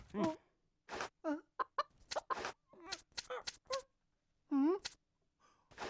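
Short rooster clucking calls come in quick irregular bursts, close and clear, with brief pauses between them.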